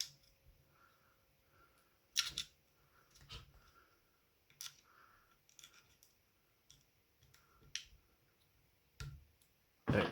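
Sharp clicks and small metallic taps from a muzzle brake being screwed onto a Resident Evil 4 SG09-R airsoft pistol, coming as a few separate close, quiet bursts with near-silence between them.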